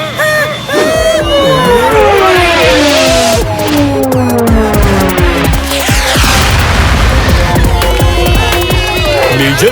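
A cartoon missile explodes in a loud booming burst amid busy animated-story sound effects and a crowd-like babble, sustained and dense throughout with swooping tones layered over the blast.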